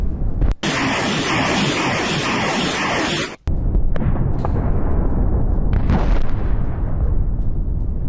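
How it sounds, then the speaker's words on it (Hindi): Missile strike explosions in Sumy, Ukraine: a sustained loud roaring blast, then an abrupt cut to a continuous rumbling, crackling aftermath with scattered pops. "वहीं रूस का यूक्रेन पर मिसाइल से प्रहार।"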